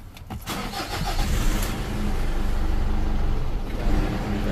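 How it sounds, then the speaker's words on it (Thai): A Mazda BT-50 pickup with a fault that makes it die after starting: a quick crank bursts into a running engine that idles roughly for a few seconds, then sags toward stalling. "สตาร์ทครับ ติดนะครับเครื่องยนต์ดับเองนะครับ"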